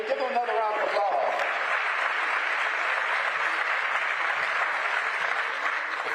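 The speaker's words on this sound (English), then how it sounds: "Give them another round of applause." An audience gives a sustained round of applause, dense clapping filling the room at even loudness from start to finish, with a brief voice or cheer standing out near the beginning.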